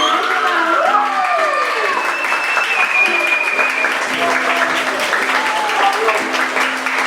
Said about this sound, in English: let's now give a big round of applause to all our awardees for your achievement